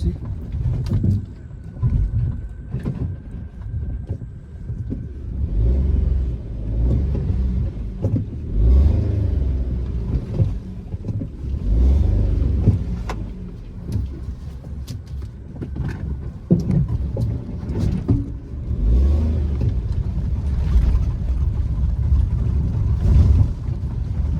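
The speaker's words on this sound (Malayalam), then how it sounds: "വണ്ടി ബാക്കിലോട്ട് എടുക്കുകയാണെ ഫുള്ള് കരിങ്കല്ലാണ് കേട്ടോ" Car reversing over a rocky, stone-covered mountain track in Uttarakhand, a low rumbling engine with crunching and bumping over stones, steady and close throughout, with faint wind.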